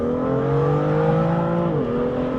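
A BMW F87 M2 with a DCT gearbox accelerates hard, its engine note rising steadily close by before a quick upshift drops the pitch, then it keeps pulling.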